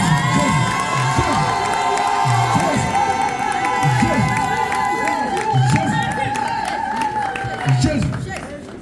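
A church congregation in Paris cheering and acclaiming the Lord, a dense, loud crowd of shouts and whoops with some clapping that rolls on steadily, thinning a little toward the end, with voices calling out throughout.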